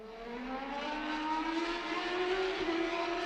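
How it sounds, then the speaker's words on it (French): A motorcycle engine sound effect used in a music track, a steady droning engine note that slowly rises in pitch as it revs, heard alone and fairly close without any voices. "J'ai mis un truc très cliché, très bateau, mais c'est tout simplement un petit son de moto direct."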